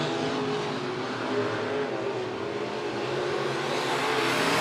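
Late model race cars running a heat race at Monett Motor Speedway, several engines roaring steadily at full throttle and swelling slightly as the pack comes closer, heard from trackside with no speech.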